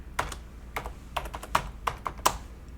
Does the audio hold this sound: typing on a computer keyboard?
yes